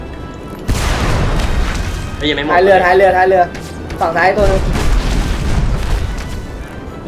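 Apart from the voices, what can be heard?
explosions from the video game Magicka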